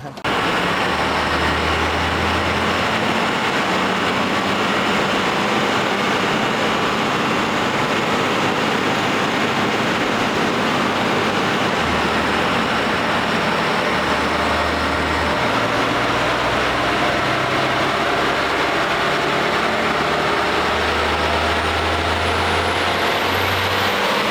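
A diesel truck with a stock VP44 injection pump runs a Quadzilla tune at power level 10, giving a steady, loud engine drone that holds throughout while people talk over it.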